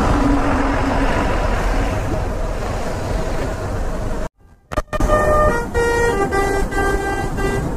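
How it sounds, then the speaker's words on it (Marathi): A truck's loud, sustained horn blares repeatedly in busy road traffic, close and harsh over steady engine and road noise, with a brief dropout before the honking resumes. "हॉर्न मारून घाबरवतोय सगळ्यांना पाठवून."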